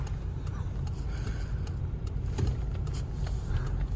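A 2015 Peugeot 308 with a 1.6 diesel and six-speed manual, heard from inside the cabin on a test drive, gives a steady engine drone and road rumble with light ticking over it.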